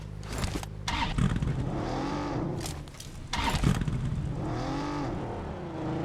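A car engine drives and revs in the mobile battle-royale game PUBG Mobile, a steady loud drone with rising and falling pitch sweeps and a brief dip in the middle, with no talk.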